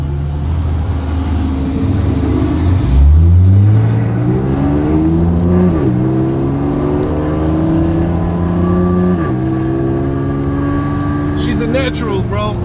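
A 2018 Chevrolet Camaro ZL1 with 650 horsepower revs and accelerates at a car show. The loud, close engine climbs steadily in pitch through several gear pulls and holds a sustained roar.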